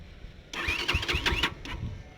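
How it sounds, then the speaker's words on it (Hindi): A UM Commando single-cylinder motorcycle engine cranks and catches in a short burst of starting noise, close and fairly loud, with a brief trailing sputter. "मैं अभी आपने स्टार्ट करके इसकी आवाज़ भी सुना दूँ, हालांकि सिंगल सिलेंडर मोटरसाइकिल है"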